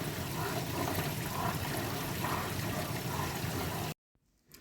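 Steady running cold water pours into a sink, a continuous rushing stream that cuts off abruptly, leaving near silence.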